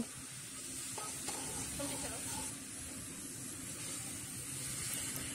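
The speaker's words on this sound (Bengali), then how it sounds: "এখন আমি ঝোলের জলটা দিয়ে দেব" Water poured into spices frying on medium flame for a thin katla fish curry, a steady sizzling hiss with brief splashy bursts early on, close and moderately quiet.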